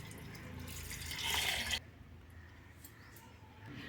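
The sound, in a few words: water poured into pot with rice and milk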